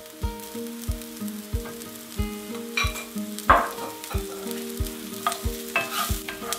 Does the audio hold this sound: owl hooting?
no